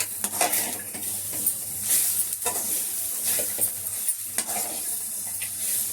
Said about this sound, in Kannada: ಇಷ್ಟು ಹಾಕ್ಕೊಂಡು ಈಗ ಚೆನ್ನಾಗಿ ಹುರ್ಕೊಳ್ಳೋಣ.